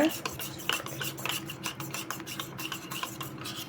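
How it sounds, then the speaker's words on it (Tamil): A spoon stirs cornflour into a small amount of water for homemade mango kulfi, making a steady, close scraping and rubbing sound that continues throughout with no speech. "தண்ணி கொஞ்சமாக ஊற்றி நான் கரைச்சிக்கிறேன்"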